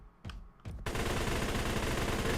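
Rapid submachine-gun fire in the video game Battle Steed Gunma, a dense sustained burst that follows two brief shots and runs loud and continuous to the end.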